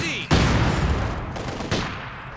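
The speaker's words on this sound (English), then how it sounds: "Barrage." Artillery barrage in Company of Heroes 2 during the Stalingrad mission, two heavy booming blasts with rumbling, crackling tails, loud and close.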